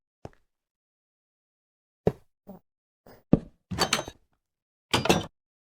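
A new roof access hatch in an apartment stairwell is shut, giving a few sharp knocks and then heavier clunks and thuds of metal and wood close by, with silent gaps between them.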